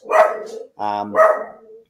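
A dog gives a few close barks and yelps in bursts, with people reacting nearby as the dog vocalizes.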